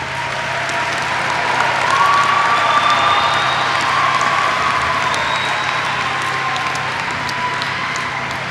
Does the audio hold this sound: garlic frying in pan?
no